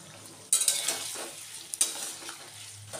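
Cashew, ginger and poppy-seed paste stirred and fried in a pan, a soft steady sizzle with two sharp spatula scrapes against the metal, close and without talk.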